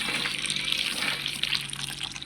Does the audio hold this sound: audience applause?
no